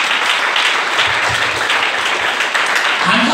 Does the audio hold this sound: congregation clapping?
yes